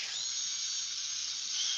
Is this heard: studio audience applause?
no